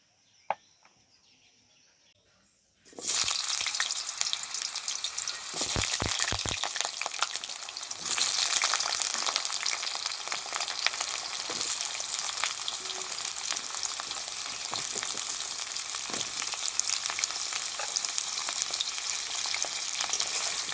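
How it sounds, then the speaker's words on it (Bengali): Potatoes and pointed gourd drop into hot oil in a wok after a quiet start, then sizzle and crackle loudly and continuously, with occasional stirring scrapes. "প্রথমে কড়াইতে তেল দিয়ে পটল আর আলুটাকে ভেজে নেব।"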